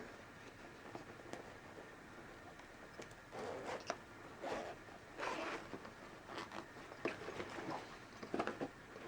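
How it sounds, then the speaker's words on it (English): A zipper is drawn open along the handle tracks of a piece of luggage, giving a run of close, scratchy rasping bursts with short pauses between them and no talk. "This one here, it's got a zipper on it. I'll undo the zipper and I'll show you."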